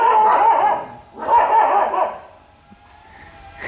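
Several dogs bark and howl at a hovering drone in two loud, drawn-out, wavering bursts close to the microphone, then fade off into a quieter pause.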